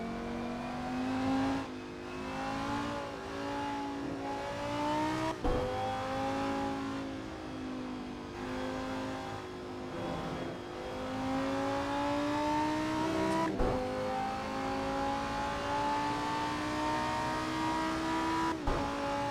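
A Lamborghini Huracan GT3 race car at practice on the Seretse Khama Circuit, its engine rising and falling through repeated revving with sharp gear-change breaks, loud and close throughout, with no voices.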